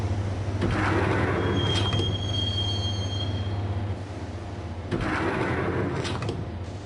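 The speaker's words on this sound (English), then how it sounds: "the train doors had already shut behind me, and I was in for the ride" Subway train ride in the Max Payne video game: a steady low rumble of railcars with high metallic wheel squeals sliding across, close and loud, with no voices.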